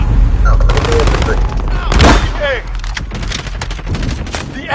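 Dense, loud automatic gunfire in Call of Duty: Modern Warfare, a rapid crackling stream of close shots with a heavier blast partway through and radio voices underneath.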